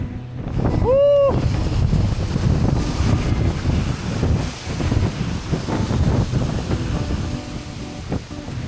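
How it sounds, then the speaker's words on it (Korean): Strong wind buffets the microphone during a cross-country bicycle ride, a loud steady roar with gusty rumble throughout and a brief rising whistle-like tone near the start. "바람이 많이 불어서 힘들긴 한데"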